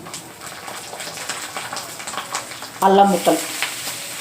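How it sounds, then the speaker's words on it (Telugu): Peanuts and tempering seeds fry in hot oil in a pan, a soft continuous sizzle that jumps louder and crackles sharply near the end as more go in, with a voice speaking over it. "పల్లీలు వేగుతున్నాయండి."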